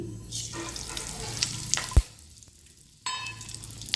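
Mustard seeds, fenugreek and asafoetida sizzle in hot mustard oil as a tempering for sambar dal, a crackling frying hiss with a brief sharp pop midway and a fresh burst of sizzling near the end.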